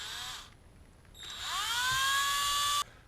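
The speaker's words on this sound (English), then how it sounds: "Now as we drill into this, that aluminum is really soft, so you're going to have to drill steady and slowly" A power drill bores steadily and slowly into soft aluminum for a Nissan VQ40 air straightener build. A short whining burst comes first, then a longer, louder, sustained high whine that cuts off abruptly.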